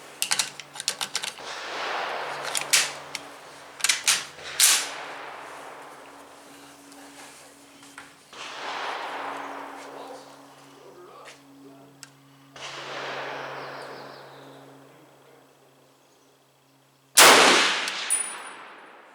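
An M1 rifle fires Speer 168-grain and PPU M2 ball rounds at an outdoor range: a rapid cluster of sharp, loud shots early on, then spaced single shots with long echoing decays, and one final close, loud report near the end.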